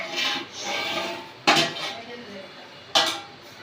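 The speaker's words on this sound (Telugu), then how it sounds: "ఇప్పుడు దీని మీద మూత పెట్టి ఉడికించుకోండి." A metal lid is set onto a cooking pot of mushroom pulao, making two crisp clanks about a second and a half apart over a faint background hiss.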